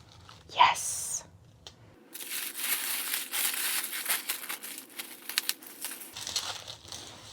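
Someone unwraps a package of Wearingeul inks, giving a sharp rip followed by steady close crinkling and rustling of paper and plastic for several seconds.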